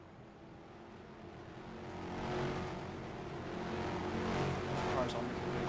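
Race cars of the ROX Mods class at a Patriot GP feature race roar through a hairpin, a steady engine drone rising and swelling as cars pass at mid distance beneath a commentator's talk.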